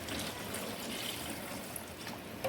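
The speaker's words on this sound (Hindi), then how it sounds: "उसी के हिसाब से मैं पानी इसमें ऐड करूँगी" Water pours steadily into a cooking pot holding a kilo of rice for mutton pulao, a continuous close splashing stream with no voices.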